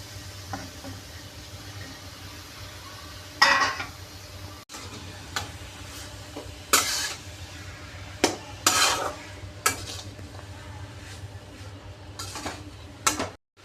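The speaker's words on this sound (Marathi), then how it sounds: "मुळा परतून झालेला आहे" Grated radish is stirred and sautéed in a pan over a soft background sizzle, with sharp utensil scrapes and clanks against the pan at irregular intervals. The clanks are close and there is no speech.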